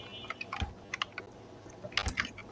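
Fingers tapping a computer keyboard, a few clusters of quick, close, crisp key clicks separated by brief pauses, heard alone without speech.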